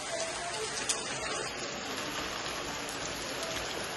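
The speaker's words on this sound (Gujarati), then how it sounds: "અટાણે વરસાદ છે ફૂલ ચાલુ હજી" Heavy monsoon rain pours down steadily in the countryside at sowing time, a dense, even hiss close by with no break and no voices over it.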